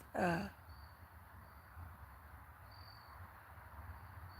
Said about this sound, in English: the insects aren't as loud now